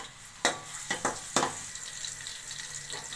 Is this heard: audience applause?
no